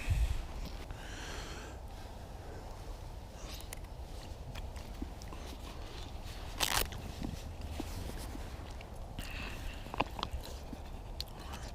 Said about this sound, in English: Let's get munching this.